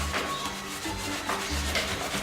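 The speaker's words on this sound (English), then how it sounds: "rubbing it in. And wiping it off." Sealant is rubbed into chalk-painted wooden furniture and wiped off with a cloth, making soft, close, repeated rubbing and swishing strokes in a short irregular rhythm.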